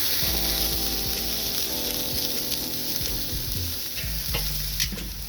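Pork chops sear directly over the coals of a Weber kettle grill, a loud steady sizzle with crackles and pops, no voices.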